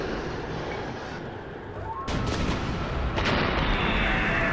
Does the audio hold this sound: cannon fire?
yes